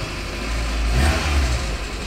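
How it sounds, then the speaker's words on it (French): A Renault Clio's engine revs up and holds a throaty roar for a couple of seconds, close by and steady, with no voices. "Regardez-moi cette Clio, je vais faire ronronner le moteur"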